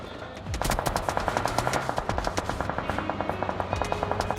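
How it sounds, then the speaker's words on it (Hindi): Rapid automatic gunfire in the mobile battle royale game BGMI (PUBG Mobile), a close, loud, evenly spaced burst of shots firing continuously for about four seconds. "उतने में यहाँ पे ऊपर से भी गोली चलती है।"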